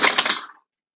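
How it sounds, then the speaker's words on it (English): A cat knocks objects down indoors, a short clatter of hard items falling and rattling for about half a second before going silent. "That was my cat. Thank you for knocking everything down"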